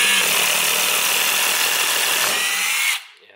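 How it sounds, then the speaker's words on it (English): A Milwaukee M12 FUEL 1/2-inch hammer drill (2504-20) bores into wood with a loud, steady high whine that cuts off abruptly near the end, close up and alone. "this can still drill, but once it starts to hit some resistance, it starts impacting"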